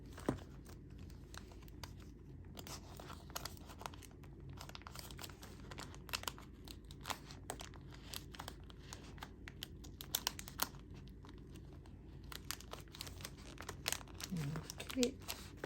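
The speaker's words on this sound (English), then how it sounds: "I have to make sure I fold it very well so that it will fit" Paper money being carefully folded to fit into a savings envelope, heard as quiet, close crinkling and rustling that runs throughout with small snaps and creases.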